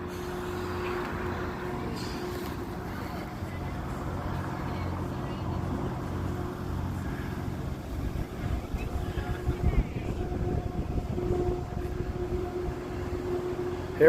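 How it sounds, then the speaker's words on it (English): A boat engine drones low and steady at a distance, with wind buffeting the microphone and the rumble roughening toward the end. "I'll show you a boat going out here."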